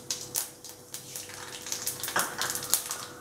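Cumin and mustard seeds sizzle and pop in hot oil, a faint, crackling run of irregular little bursts.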